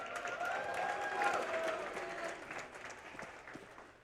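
An esports crowd at the IEM Road to Rio 2022 Asia RMR Counter-Strike event applauds and cheers for the Mirage map, a swell of clapping and whistles that gradually fades over a few seconds.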